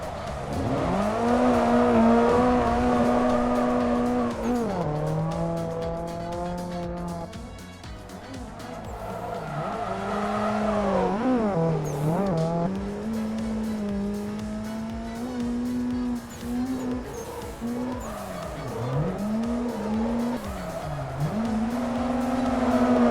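A drifting race car in Assetto Corsa Evo, using a drift mod, lets out a loud engine note that swoops up and down as the tires squeal repeatedly through slides, with a voice occasionally heard over it.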